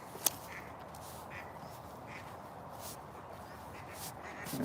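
Ducks on a frosty winter trail pond coming ashore give a few soft, distant quacks spaced across a steady outdoor hiss, with one sharp click near the start.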